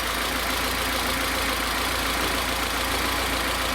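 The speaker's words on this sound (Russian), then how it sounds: "Ровненько двигатель работает, никаких посторонних шумов." A car engine with a new rocker arm and new camshaft idles smoothly while warming up, a steady, even hum with no knocking, close and continuous throughout.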